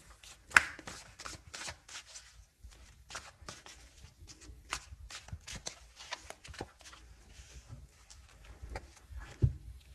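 A deck of tarot cards being shuffled close up: a long run of quick, crisp riffles and flicks with short pauses between bursts, no talking.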